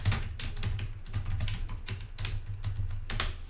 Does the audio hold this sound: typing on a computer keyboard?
yes